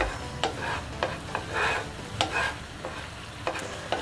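A spoon scrapes and stirs a bread malai mixture in a pan over a low flame, with repeated sharp scraping strokes over a soft, continuous sizzle and no talking.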